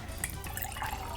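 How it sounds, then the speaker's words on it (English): Water from a soup can pours into a pot of condensed soup, a faint, steady liquid splash and trickle lasting about a second with no talking. "Now, we're gonna add 2 cans, got my can, of water."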